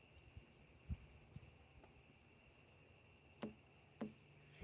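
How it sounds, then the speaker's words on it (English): Crickets chirp outdoors as a faint, steady high-pitched trill in the background, with a few soft scattered taps and knocks breaking the quiet. "actually, it's crickets and frogs"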